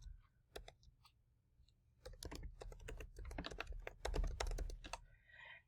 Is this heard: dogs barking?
no